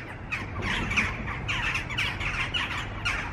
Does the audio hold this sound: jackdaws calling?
yes